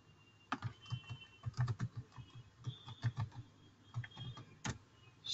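Keys tap in quick irregular bursts on a computer keyboard while a search is entered in Oracle R12 Financials software, close and moderately quiet, with a few louder clacks and brief pauses between runs.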